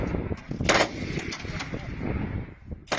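Gunfire at a firing range during shooting practice by a defence minister and members of parliament, repeated sharp shots at a distance under a voice talking.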